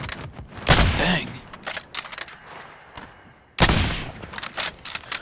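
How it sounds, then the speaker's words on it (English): Video game gunfire: two sharp, loud shot bursts a few seconds apart, each ringing off into a short tail, with quieter game noise in between. "I don't have a clear shot and I'm still shooting."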